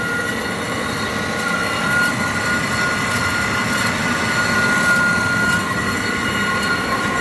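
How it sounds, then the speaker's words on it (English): A reconditioned HEM H120LA bandsaw runs with its coolant pump going, producing a steady, dense mechanical drone with whirring and faint high whine, continuous and fairly loud throughout, with no talk. "We just got the coolant pump running in the bucket now."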